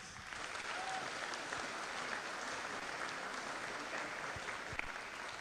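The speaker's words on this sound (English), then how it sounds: "We need to give a significant round of applause to Dr." Audience applause for a company CEO at a Class of 2024 celebration, a steady, dense wash of many hands clapping, moderately distant and even, holding for the whole stretch without voices over it.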